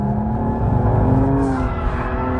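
A BMW M235i engine held at full throttle while drifting, a loud, sustained, high-revving roar with a steady rasping note and no pause.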